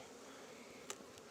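Honeybees buzz around an open hive during a heavy nectar flow, a faint steady hum with one brief louder pass of a single bee close by.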